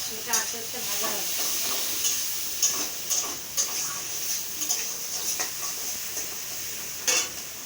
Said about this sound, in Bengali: এটা আস্তে আস্তে ভাজা হবে